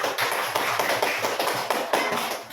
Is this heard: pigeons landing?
no